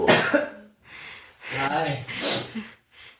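Someone coughs several times in harsh, breathy bursts with short pauses between, close and fairly loud.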